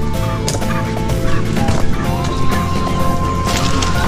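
A turkey gobbles repeatedly, loud and close, at a poultry farm, over a busy, cluttered background with tonal hum and occasional knocks.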